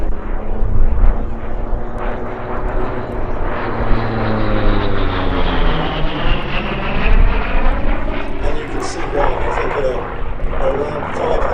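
Loud, close roar of a Grumman F8F Bearcat piston-engine fighter flying past at Sywell airshow, with sweeping pitch shifts as it passes and a commentator talking over it.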